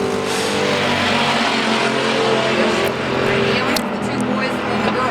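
Pure stock race cars roar down the front stretch at Central Arizona Speedway in a heat race, engines loud and sustained, with a commentator talking over them.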